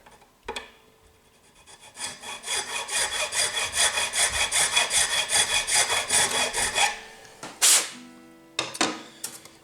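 A file rasps back and forth in the nut slot of a bone nut on an acoustic guitar, a steady run of close, rhythmic strokes lasting several seconds, then a pause and a few short scrapes.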